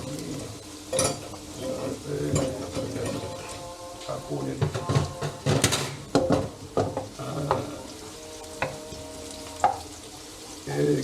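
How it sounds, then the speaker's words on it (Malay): Onions sautéing in a pan until slightly crispy, sizzling and frying with scraping stirs and occasional clinks of utensils against the pan, close and fairly loud, with a voice talking over the cooking at times. "kita tumis bawang ni sampai kalau boleh nampak nak apa, garing sedikit lah."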